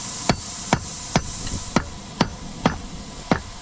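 Hot steel from an old metal file is hammered into a fire striker on an anvil, with seven sharp, ringing blows falling at a steady, even rhythm about twice a second.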